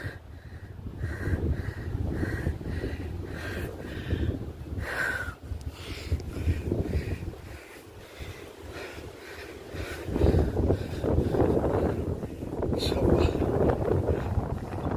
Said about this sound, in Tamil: காற்று வேற ரொம்ப பலமாக இருக்குங்க, காற்று பயங்கரமாக இருக்கு